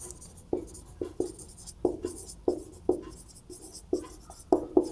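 A pen scratches across paper while maths working is written out, a close series of short strokes and taps coming in an uneven rhythm with small pauses between, with no talk over it.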